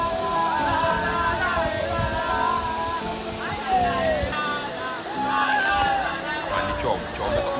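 Rushing water at Kintampo Waterfalls in Ghana, a steady, loud wash of falling water running throughout, with faint voices and chatter mixed underneath.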